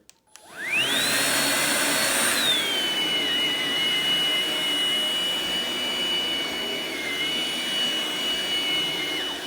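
A Ryobi cordless stick vacuum cleaner spins up and runs steadily, a loud close whine with a rising start and a high motor tone that holds level throughout, with no talking.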